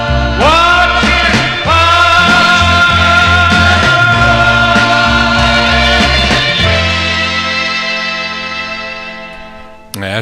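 A 1960s pop ballad plays loudly from a vinyl record with full instrumentation and singing, gradually fading out toward the end.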